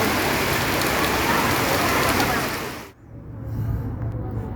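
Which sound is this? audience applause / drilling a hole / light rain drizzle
light rain drizzle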